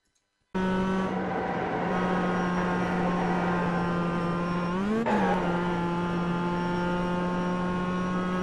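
Steady high-pitched Mazda Miata Roadster engine whine at sustained speed in iRacing at Lime Rock Park, with a brief pitch dip and rise midway as the car brakes and accelerates.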